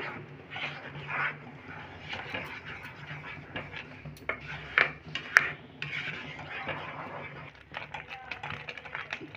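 A spoon clinks and scrapes against a pot as Kashmiri red chilli powder is mixed into amla pickle, with soft irregular knocks and rubbing close by and a voice talking in the background.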